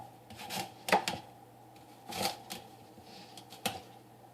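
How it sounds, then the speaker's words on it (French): A knife cuts an apple to make homemade horse treats, heard as several short, crisp cutting and crunching clicks in an uneven rhythm, close and quiet, with pauses between them. "Avec le couteau, on va couper la pomme"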